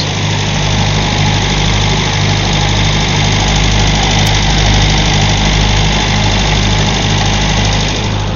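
A Series II Land Rover engine idles loudly up close after a cold start, a steady rough rumble that never changes pace, with no voices.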